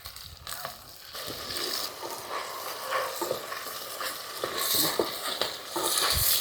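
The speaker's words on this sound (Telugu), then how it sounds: "ఎండు చేపలు కూడా వేసుకుందాం. వేసుకొని 1 నిమిషం అట్లా వేయించుకుందాము." Dry fish frying with curry leaves in a pan for an Andhra-style brinjal curry, a steady crackling sizzle with occasional stirring scrapes and clatter, close by and moderately loud.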